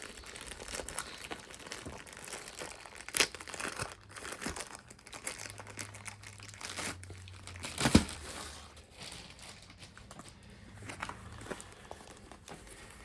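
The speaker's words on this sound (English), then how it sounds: "Again, they're always in this plastic bag." A plastic bag is handled in crinkly bursts at close range, mostly soft, with a few sharper rustles and crackles scattered through a quiet background.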